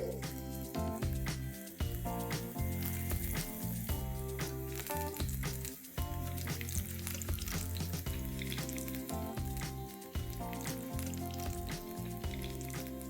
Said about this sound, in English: fry them on high heat and very quickly. Very gently drop them in the oil.